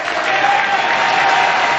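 Steady, dense round of audience applause at an awards dinner, loud and continuous throughout the short stretch with no break.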